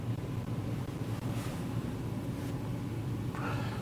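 Strong wind gusts outdoors near a roof, buffeting the microphone as a steady, loud broadband roar with no voices.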